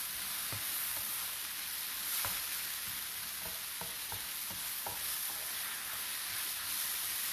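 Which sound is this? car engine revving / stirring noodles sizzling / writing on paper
stirring noodles sizzling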